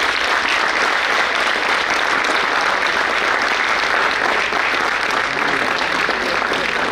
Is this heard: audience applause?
yes